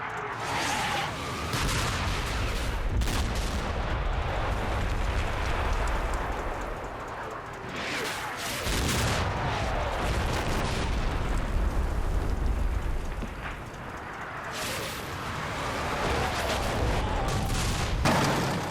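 Artillery barrage in the Combat Mission: Red Thunder war game, a dense, continuous rumble of explosions with repeated sharp blasts and booms, loud and unbroken throughout, no talk.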